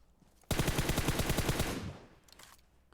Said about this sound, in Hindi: मैं यहाँ पे स्मोक्स पे फायरिंग कर रहा था शायद कि कोई गोली लग जाए